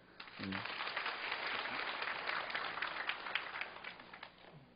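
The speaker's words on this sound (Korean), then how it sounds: "우리 박수로 한번" A church congregation applauds to welcome a deacon back to the choir, a steady crowd of claps filling the room at moderate loudness for several seconds, with a brief voice at the start.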